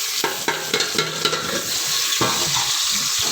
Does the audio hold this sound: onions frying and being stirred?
yes